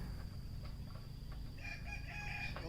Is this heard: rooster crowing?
yes